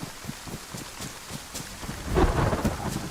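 Steady rain with rolling thunder in the survival video game DayZ, a low rumble swelling louder near the end over continuous patter, with no voices.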